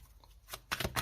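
Tarot cards handled and shuffled at close range, a few quick soft riffling bursts after near silence, with no talking.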